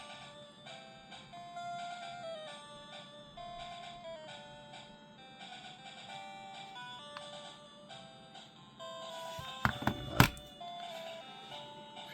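Chiptune Game Boy game music with beeping melody lines plays steadily at full volume through an upgraded console speaker, with a brief burst of sharper clicks near the end.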